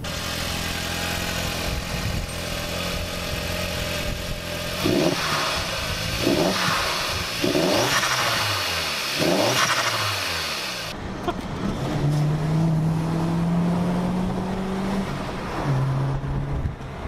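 Volkswagen Golf GTI pulling away under turbo boost, its engine note rising through several rhythmic surges before settling into a steady, strained drone with tonal whine, close and fairly loud throughout.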